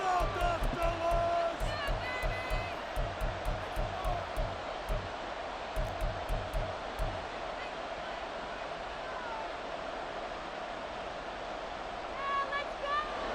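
Stadium crowd noise from the Madden NFL 24 football video game, a steady broadband roar of spectators running throughout, with a commentator talking over it in the first half.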